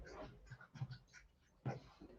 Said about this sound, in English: I'm being attacked by puppy dogs.